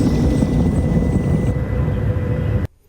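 Helicopter flying in a scene from the Chernobyl series, a loud continuous rotor and engine drone that thins slightly midway and then stops suddenly.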